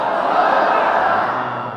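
A crowd of worshippers inside a mosque voices a loud collective takbir chant, a sustained roar of many voices heard close and filling the space for under two seconds.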